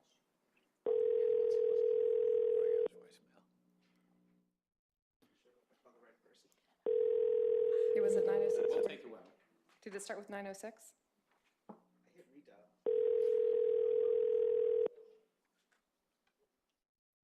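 Three long steady telephone dial tones, each about two seconds, sound while calling a phone back during a school board meeting, with people talking quietly between the tones.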